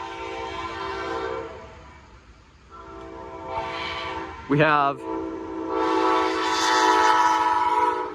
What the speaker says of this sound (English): Symbol on that train is Amtrak 48